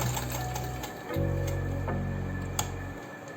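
A sewing machine stitches an elastic waistband on pants, a steady close mechanical whir that shifts pitch and speed partway through, with a brief tick near the end.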